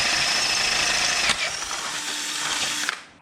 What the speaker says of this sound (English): I go and drill the second one here